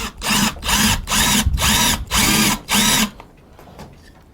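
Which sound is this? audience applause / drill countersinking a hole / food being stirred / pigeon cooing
drill countersinking a hole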